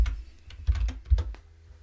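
Typing on a computer keyboard, a handful of soft irregular key clicks and thumps spread across a short quiet stretch, close and fairly faint.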